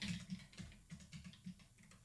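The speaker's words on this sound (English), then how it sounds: "We're just going to type in what" Fingers tap out a web address on a computer keyboard, producing a faint, irregular patter of soft keystrokes close by.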